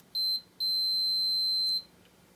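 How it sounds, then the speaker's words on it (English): Two high-pitched electronic beeps, a short one followed by a longer sustained tone, clear and close against a quiet background. "If you put the two of these together, you get a beep."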